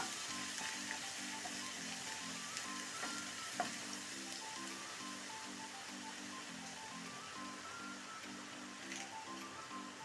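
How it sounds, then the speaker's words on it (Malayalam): Ginger garlic paste fries in a pan for a Kerala-style beef roast, a steady close sizzle and crackle that continues without a break, with a faint rhythmic hum underneath. "ഇഞ്ചി വെളുത്തുള്ളി പേസ്റ്റ് ഇട്ട് കൊടുക്കാം"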